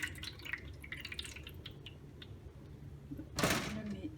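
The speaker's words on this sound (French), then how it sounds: "Je vais l'égoutter un petit peu." Water drips off a bundle of paper soaked in rapeseed and baking soda dye as it is drained, with scattered close drips, a louder splashing burst near the end, and speech over it.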